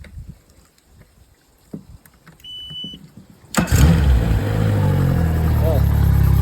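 A boat engine cranks and fires up after quiet handling noises, then settles into a loud, steady close running rumble that continues to the end.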